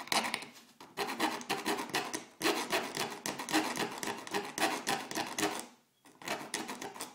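A hand file rasping along the edge of a metal aircraft rudder rib clamped at a table, brisk repeated back-and-forth strokes in close bursts with a couple of short pauses.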